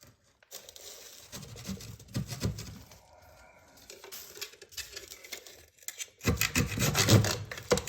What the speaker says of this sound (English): So let me just take this saw to get this crud out of there.